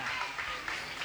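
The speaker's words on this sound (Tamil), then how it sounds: "கைதட்டுங்க" A crowd applauds at a primary school cultural event at RC Primary School, Velayuthapuram, with continuous, dense clapping blended with a murmur of voices throughout the short stretch.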